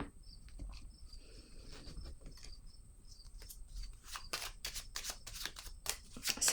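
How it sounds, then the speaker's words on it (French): Tarot cards are set down on a surface with soft papery taps and rustles, faint and close, the clicks growing more frequent toward the end over a quiet background. "Je vais déposer une autre carte ici."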